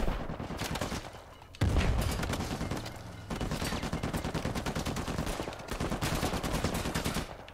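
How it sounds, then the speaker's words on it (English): Heavy gunfire in the video game Uncharted 4: A Thief's End: dense, rapid bursts of automatic weapons fire crackle almost continuously, loud and close, with brief dips between volleys. "Taking some heavy fire, though."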